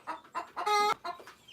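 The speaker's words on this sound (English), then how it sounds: "They are 1 month old and they are local birds." Month-old local chicks cluck and chirp in several short bursts with brief pauses between, one longer trilling call in the middle, fairly close and alone.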